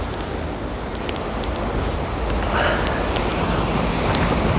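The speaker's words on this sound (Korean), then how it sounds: "어우 파도 너무 센데요" Strong ocean waves crash against rocky coastline at Gijang, Busan, as a steady, loud roar of surf mixed with wind buffeting the microphone, with no talking.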